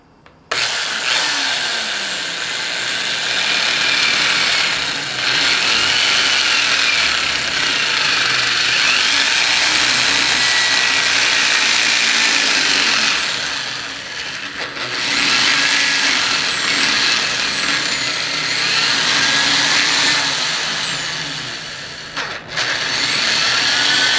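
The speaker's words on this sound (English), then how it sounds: "Just run the drill through and clean it." A power drill cleaning out belt holes in a gun holster whirs loudly and steadily for most of the span, dipping briefly partway through and near the end, with no voices over it.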